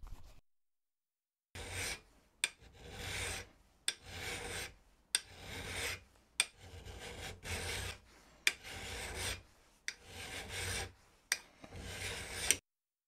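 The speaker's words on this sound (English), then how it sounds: "I've got the first file out here, which is random crappy file number 1. And let's see how close to this line I can get." A hand file rasping metal while shaping a toolmaker's square, in about ten steady strokes with short pauses between them, close and clear with no talking.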